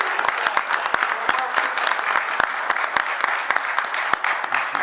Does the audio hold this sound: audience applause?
yes